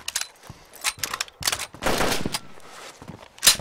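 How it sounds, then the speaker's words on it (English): AK rifle gunfire in the survival video game DayZ, bursts of sharp shots in uneven clusters with one sustained rattling volley, fairly loud and close-sounding. "somebody shooting an AK somewhere"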